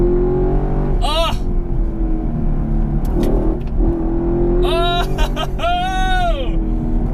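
A Chevrolet Camaro SS 1LE V8 roars steadily near the mic while revving high, with a voice talking over it and exclaiming in bursts.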